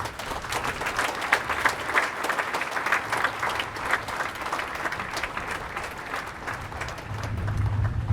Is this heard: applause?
yes